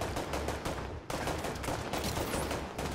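Gunfire in the video game The Division 2 comes as dense, rapid bursts of shots that overlap into a loud, continuous barrage.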